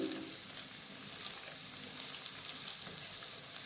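Four eggs seasoned with turmeric, coriander powder and chili powder fry in a pan for egg fried rice, a steady, fairly loud sizzle that runs throughout with no voices.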